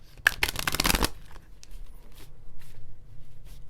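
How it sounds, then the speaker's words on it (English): Tarot cards being shuffled in a quick, dense burst of riffling lasting about a second, then only soft handling rustles and faint room noise. "So, okay, Spirit says to shuffle and then cut."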